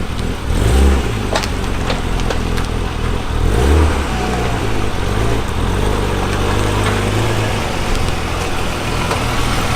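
A car rolls out of a shop after a wheel alignment on a BMW M3 LTW sedan build, a steady low engine rumble with light revving running throughout, fairly loud and close, with no talking.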